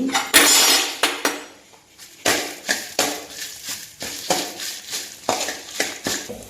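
A spoon adds fenugreek seeds to cucumbers frying in a pan for a mango and red chilli pickle, producing repeated close metallic clinks and scrapes against the pan in an uneven rhythm, with no talk.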